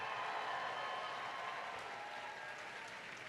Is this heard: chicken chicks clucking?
no